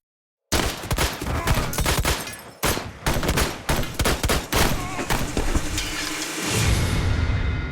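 Dramatized gunfire in a spy-story shootout: rapid volleys of loud, close shots crack in clustered bursts with brief gaps, then give way to a low rumbling tail.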